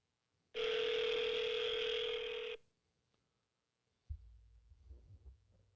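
A phone call rings out over speakerphone as one steady, loud electronic tone lasting about two seconds, followed by a pause and then low, muffled rumbling and handling noise.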